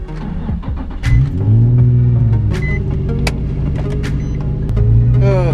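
Nissan 350Z with a welded differential driving and revving, a loud continuous engine drone with rising and falling pitch sweeps as it accelerates, close and steady throughout.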